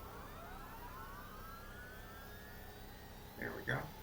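Engine number 4 of a De Havilland Dash 7-150 spools up in X-Plane 11, a faint rising whine that climbs steadily over a low hum before a short voice breaks in near the end.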